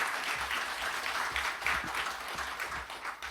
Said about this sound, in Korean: 다시 한번 하나님께 영광의 박수 올려드리겠습니다.